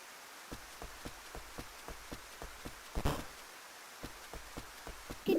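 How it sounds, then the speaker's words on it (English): Soft, steady rainfall hisses in the Rune Factory video game while light, regularly spaced footsteps tap along on top, all fairly faint. "Oh, it's raining."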